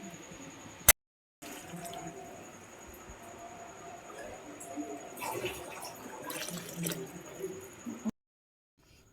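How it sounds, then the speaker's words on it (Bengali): Soya chunks simmer in boiling water with chilli sauce and soy sauce, giving a steady bubbling hiss that swells toward the end. The sound is broken by short silent gaps near the start and finish. "তো জলটা ফুটে গেছে"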